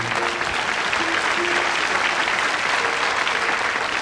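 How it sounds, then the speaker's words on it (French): Loud, dense audience applause fills a children's talent show studio from start to end, steady and unbroken, with a faint voice briefly audible underneath. "on applaudit très fort."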